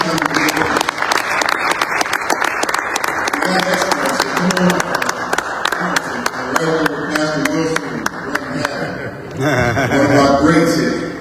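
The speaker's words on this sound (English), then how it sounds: "Sinclair Skinner, let's give him a round of applause." An audience claps for a speaker at a talk on the crisis facing Black Washington DC, loud sustained applause with sharp individual claps, a voice talking and chuckling over it, then cheering near the end.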